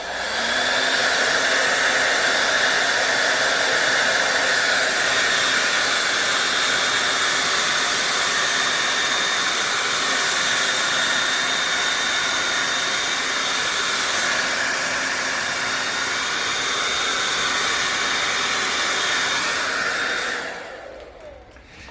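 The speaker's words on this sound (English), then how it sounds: "And here is the other method. It's a hairdryer." A hairdryer runs steadily at close range for about twenty seconds, heating a sticker on a guitar effects pedal, a constant loud whooshing hiss that cuts off at the end.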